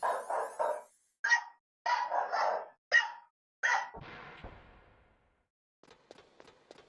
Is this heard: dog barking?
yes